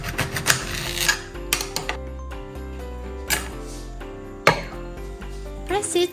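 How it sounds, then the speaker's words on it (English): A pomelo cut in half with a knife over steady background music: several sharp, separate cutting taps and clicks spread across the moment, with one firmer thud partway through. "Cut 1 pomelo in half."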